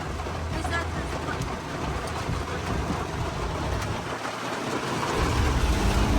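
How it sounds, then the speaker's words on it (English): Heavy rain and hail pounding on a vehicle parked under a tree in a sudden storm, a steady dense roar with no breaks, louder toward the end. "we ran into a storm that produced hail"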